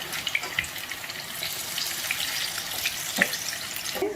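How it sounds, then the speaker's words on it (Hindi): Pakoras deep-frying in hot oil give a steady bubbling sizzle, with occasional louder crackles and pops rising above the continuous hiss. "ये हमारे पकोड़े फ्राई हो रहे हैं"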